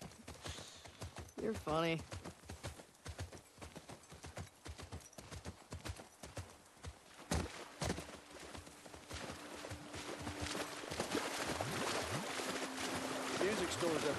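Steady clip-clop of horse hooves plodding along in The Last of Us Part II, with people chatting over it and a brief whinny early on.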